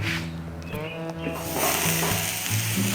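Asparagus hitting a hot grill, a close hissing sizzle that swells and grows louder after the first second and a half, with faint low background hum and a few clicks.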